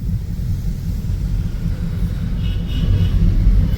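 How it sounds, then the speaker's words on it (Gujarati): An airplane passes overhead during humid weather, a deep continuous rumble that slowly swells louder toward the end. "જો ભાઈ વિમાન જાય છે ઉપર"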